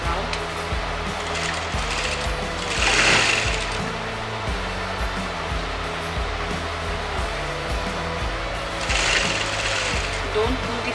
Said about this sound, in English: I'm going to start sewing all around.